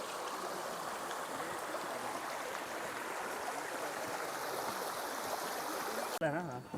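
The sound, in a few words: waterfall stream flowing in Andharban jungle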